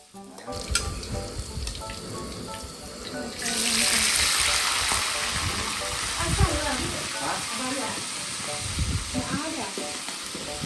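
Pad thai being stir-fried in a pan, with busy sizzling that swells louder partway through, spatula scrapes and clatter, and people talking over the cooking.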